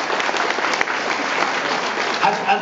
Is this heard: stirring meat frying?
no